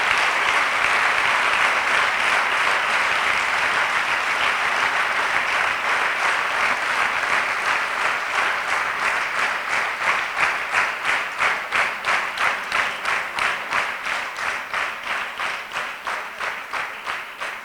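Audience applause for a pastor at a church event: a full, loud burst of many hands that slowly thins into more distinct, rhythmic claps toward the end, with no voices over it.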